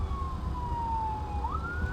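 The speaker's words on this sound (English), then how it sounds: "I think it's an ambulance coming." An ambulance siren wails over steady road and engine noise heard from inside a moving car, one long falling tone that then steps back up as the vehicle approaches and passes.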